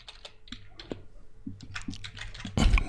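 Keys clack on a computer keyboard in quick, irregular bursts of close, crisp taps, isolated against a quiet background while someone types code.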